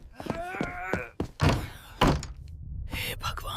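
Door rattling and banging in a desi comedy horror cartoon about a haunted mansion, with several sharp thunks and heavy bangs in uneven bursts, loud and close, mixed with other cartoon effects.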